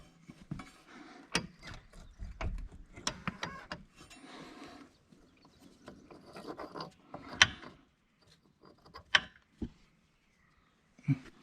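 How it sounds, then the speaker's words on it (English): Metal clanks, creaks and rattles come as the cab of a Caterpillar D3 skid steer loader is tilted up once both side bolts are loosened. Irregular, close mechanical knocks are followed by a few sharp bangs and then quiet. "now that we got both sides off, this cab will just lift right up"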